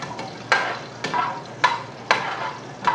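Garlic and onion are stirred in a hot pan for fritada, giving a steady sizzle broken by four sharp scraping stir strokes at a regular, unhurried rhythm, close and clear with no talk.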